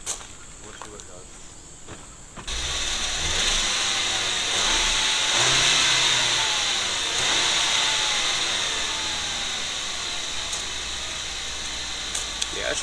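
A Ford Edge 2.0 EcoBoost engine with a failed block, misfiring after oil got into it, cranks and catches, then runs with a steady, loud, slightly rough drone close by for about ten seconds.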